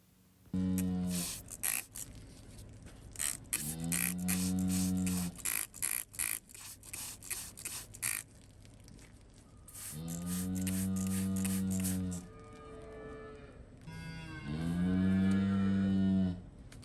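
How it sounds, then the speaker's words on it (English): An anxious cow held in a hoof-trimming chute moos loudly and repeatedly in long, drawn-out calls separated by short pauses, with faint scraping in the background between calls. "that is this cow making that noise in the background"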